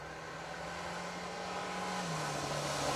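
A rear-wheel-drive rally car, number 89, runs a forest stage of the Nicky Grist Stages in the Pirelli Welsh Rally Championship, its engine a steady droning note that swells slowly as it nears, with no voices.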